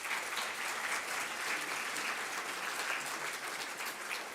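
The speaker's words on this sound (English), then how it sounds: "You deserve a round of applause." An audience at a citizens' assembly session on drug use applauds, a continuous, even patter of many hands clapping at moderate volume without pause.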